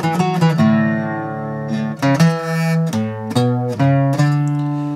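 Requinto guitar ornament played fast: quick alternating plucked notes on two strings leading to the open fifth string, a rapid bright run of clear picked tones with ringing sustain, solo and close.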